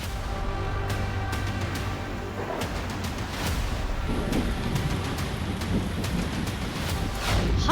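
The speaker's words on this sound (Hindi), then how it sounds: "आधी रात को बादलों की गड़गड़ाहट।" A late-night thunderstorm in Karauli brings heavy, steady rain with low rumbles of thunder rolling through, a dense continuous wash of sound with no voices.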